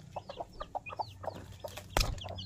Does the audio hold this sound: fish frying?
no